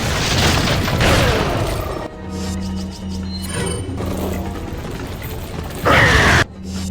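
Gunfire and booming impacts from the 2005 video game Resident Evil 4 on the island level, loud and dense, with mechanical clatter and a droning background between shots.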